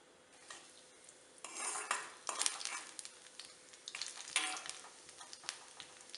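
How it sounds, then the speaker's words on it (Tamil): Mustard seeds, urad dal and cumin splutter and crackle in hot oil in a pan while a spoon stirs and scrapes against the metal, a close, busy sizzle with bursts of popping. "கடுகு நல்லா பொரிஞ்சிருச்சு."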